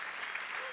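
A concert audience at a Berklee Groove School closing concert claps in a brief, dense burst of applause, an even wash of hand claps that holds steady throughout.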